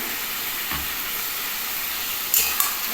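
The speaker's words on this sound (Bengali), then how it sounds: "এবার আমি পেঁয়াজটাকে এর মধ্যে ভালো করে কষিয়ে নিচ্ছি" Sliced onions fry in a pan for chicken kosha, giving a steady loud sizzle and hiss with a couple of brief scraping stirs, and no talk over it.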